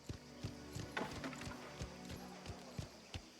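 Horse hooves clop at a steady walking rhythm in the video game Mafia: The Old Country, set in Sicily, over a quiet background, each hit crisp and evenly spaced.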